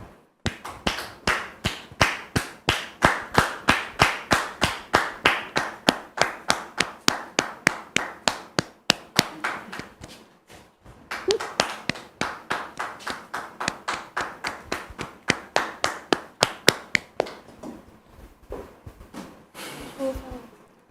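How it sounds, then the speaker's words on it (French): Studio audience applause greeting a guest on a talk show: sharp, evenly spaced claps in a steady rhythm, pausing briefly midway then resuming before fading into quieter scattered claps. "Sous vos applaudissements, s'il vous plaît."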